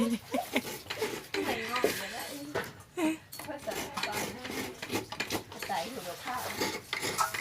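Fresh coconut being scraped on a traditional rabbit-shaped coconut grater: repeated rasping strokes in an uneven rhythm, close and moderately quiet, with faint scraping and knocking between passes.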